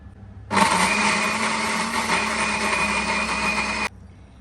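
An electric mixer grinder blends cooked onion and tomato, starting abruptly into a loud, steady high-pitched whirring grind that holds for about three seconds and then cuts off sharply.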